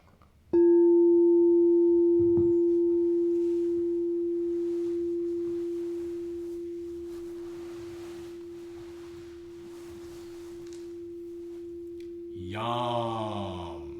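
Singing bowl tuned to F for the heart chakra, struck once and left to hum as a pure, steady tone that slowly fades, before a voice begins chanting at the end.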